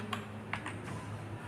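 Keystrokes on a computer keyboard while typing a word into an MS Word 2013 document, a few quick clicks in a short burst over a low steady hum.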